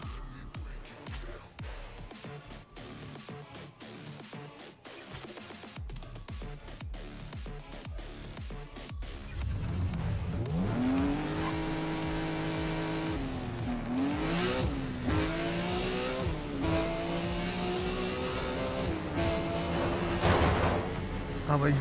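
Engine of a Porsche racing in the video game Need for Speed World, starting under game sounds and then roaring loud and steady, rising and falling through gear shifts for over ten seconds, with tyre squeals near the end.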